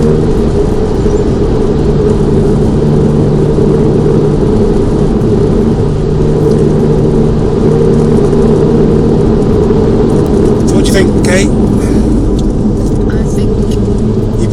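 A VW Golf GTI Clubsport S engine pulls hard through the gears, a loud continuous drone with pitch changes as it accelerates, heard from inside the car while a voice talks over it.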